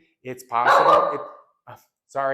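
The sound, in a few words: dog barking under a table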